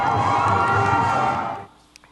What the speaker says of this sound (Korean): 인도에는 환호하는 시민들이 가득합니다